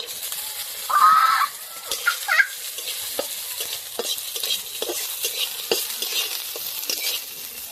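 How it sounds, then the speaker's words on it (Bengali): Cashews and raisins frying in ghee in a wok for a bottle gourd and date-palm jaggery payesh, giving a steady light sizzle with stirring scrapes and a brief louder burst near the start. "কাজু আর কিশমিশটা ঘিয়ে ভেজে নেব।"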